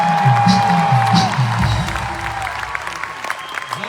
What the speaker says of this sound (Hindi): जोरदार तालियां बनती है आपके लिए